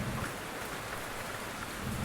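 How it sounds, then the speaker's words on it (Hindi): Steady rain falling outdoors in a UK village in winter, a constant dense hiss of drops on surfaces, heard alone without any voices. "आज आपको सिर्फ बारिश ही दिखानी थी"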